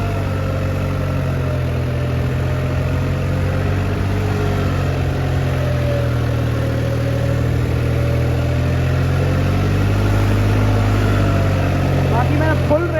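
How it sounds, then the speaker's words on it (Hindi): Tractor engine, Massey or New Holland, held at full throttle in first gear while bogged in a muddy field, a loud continuous drone that strains and wavers slightly without letup. "बाकी मैंने फुल रेस खींच रखी है, भाई का पहला डाल रखा है, उसमें भी दब रहा है।"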